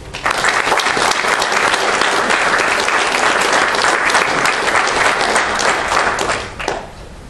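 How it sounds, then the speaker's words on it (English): Sustained, dense applause from an audience at a school board meeting honoring National Merit Scholarship students, steady and loud for several seconds before tapering off at the end. "Big round of applause for our National Merit Scholarship students"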